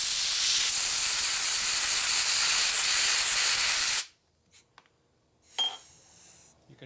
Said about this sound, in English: You can hear the air going through them.